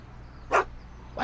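Einstein, Doc's dog in Back to the Future: The Game, gives a single short bark, with the start of a second cut off at the end, over a quiet background hum.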